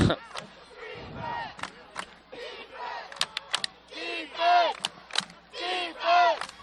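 Home crowd at a high school football game, Enterprise vs. Paradise, cheering and chanting in rising and falling waves, with sharp whistles and claps cutting through, loud and close throughout.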